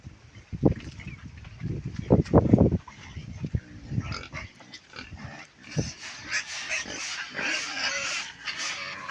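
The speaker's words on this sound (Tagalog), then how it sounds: "Amo po ito namon mga alaga ng mga baboy." Pet pigs grunt and oink in a series of loud, close, irregular bursts, then quieter rooting noises and shuffling follow, with some scattered squeals mixed in and no talking.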